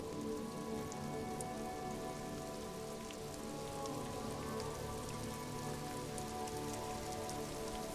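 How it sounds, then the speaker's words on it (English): Rain falls in Disco Elysium, drumming steadily on roofs and motor vehicles, a constant dense patter with scattered drops, under low droning tones and without voices. "Rain thrumming on the roofs of motor vehicles."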